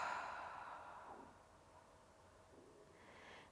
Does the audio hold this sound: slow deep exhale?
yes